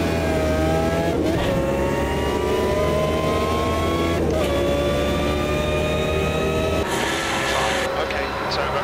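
An Opel Amiga Evo DTM race car in the Automobilista 2 racing game at Zolder, its engine droning steadily and loudly throughout, with pitch rising and falling through gear changes, including an abrupt shift near the end.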